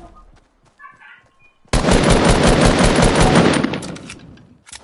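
Sustained video game gunfire erupts abruptly after a quiet stretch, a loud dense burst of rapid shots lasting about three seconds before tapering off, with faint voices and chatter beforehand.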